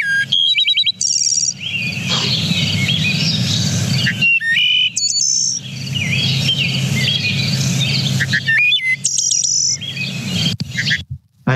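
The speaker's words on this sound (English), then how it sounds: "the elusive and my favorite bird of all time, the wood thrush" A wood thrush sings clear, flute-like phrases ending in airy trills, repeated three times at steady intervals over a constant low drone of insects in the background.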